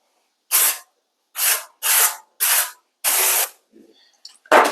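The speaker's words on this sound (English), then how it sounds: "since this is an aluminum pan, is we're going to grease this sucker down. We've got this avocado oil" Avocado oil cooking spray hisses onto an aluminum pan in five short, close bursts separated by brief pauses, followed by a faint clatter and one more quick spray.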